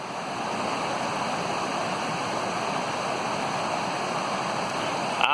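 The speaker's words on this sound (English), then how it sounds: "Ocqueoc Falls, northeast lower peninsula of Michigan." Ocqueoc Falls in northeast lower Michigan, a steady, full rush of water pouring over the falls, broadband and constant from start to finish, with no voices.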